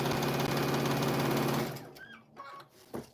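A sewing machine stitches diagonal lines across fabric for half square triangles, running loud and steady for about a second and a half before stopping, followed by a few faint handling sounds.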